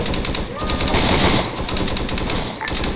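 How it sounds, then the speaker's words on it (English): Machine gun fire in Arma 3 during a Vietnam-era operation: sustained rapid bursts of automatic fire, loud and dense, with brief gaps between strings and a faint voice underneath. "get MG fire down."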